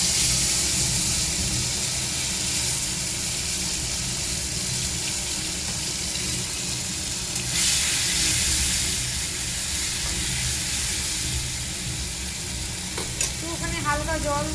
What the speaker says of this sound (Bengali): এবার এই যে মশলাটা দেবো, মশলাটা আগে ভেজে নেবো